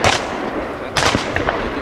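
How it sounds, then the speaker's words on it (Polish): Two shotgun blasts during an outdoor duck hunt, the first at the start and a second, sharper report near the middle, each loud and close with a short decaying tail. "Dałem pierwszy strzał, kaczka spadła."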